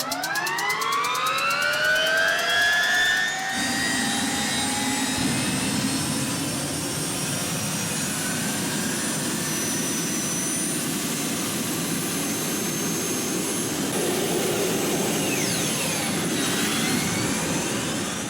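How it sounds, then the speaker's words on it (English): The Y2K turbine-powered motorcycle spools up with a loud, rising jet-like whine, then settles into a steady, sustained turbine roar and rushing hiss that carries on for many seconds, close and continuous. "the Y2K makes a sound signature unlike anything else on wheels."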